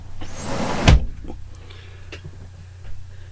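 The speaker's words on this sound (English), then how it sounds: "And open the door and let the breeze come in" A bedroom door swings open with a single loud creak and thud early on, followed by quieter room noise and faint clicks, with no talking.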